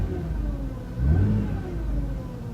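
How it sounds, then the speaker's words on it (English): A Ford Fiesta R5 rally car engine idles with a rough, low rumble, then gets one short rev that swells and falls back to idle, heard close up. "When you rev it a little bit."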